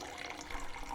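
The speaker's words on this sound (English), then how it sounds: "Can I fill up my watering can?" Water running into a watering can in the horror farming game We Harvest Shadows, a soft, steady trickling pour heard faintly throughout.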